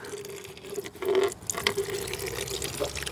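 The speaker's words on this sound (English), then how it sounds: "I'm just going to hopefully get the siphon action working." Water siphoned from an RV hot water tank into a bucket during camper winterizing: close trickling and dripping with a few louder splashes, no talk.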